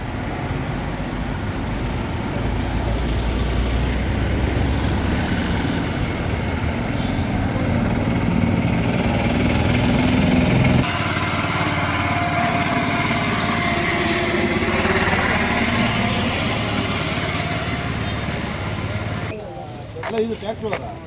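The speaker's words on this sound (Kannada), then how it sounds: "ಇದು ಟ್ರ್ಯಾಕ್ಟರ್" A tractor engine runs steadily and loudly throughout at a roadside accident scene in a village of Bagepalli taluk, with a rough, continuous droning rumble that briefly dips near the end.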